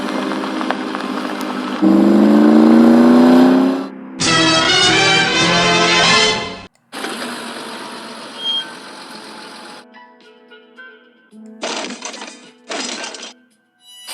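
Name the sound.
car driving off by itself, Transformers cartoon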